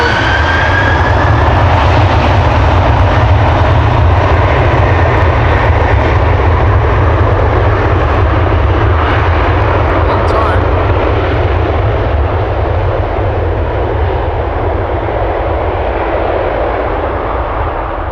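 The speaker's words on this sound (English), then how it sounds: "Delta Airlines Flight 75 to Atlanta, Georgia, now next to take off. A330 300" Delta Airlines Airbus A330-300, 17 years old, taking off at Amsterdam Schiphol Airport: a loud, sustained jet engine roar holding steady throughout, with a faint high whine fading early on.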